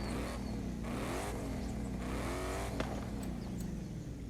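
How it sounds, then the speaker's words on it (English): A Ford Raptor V8 engine revs in the Forza Horizon 5 racing game, rising and falling through several throttle blips over a steady engine drone, with no talking. "Let's actually rev up the engine a little bit."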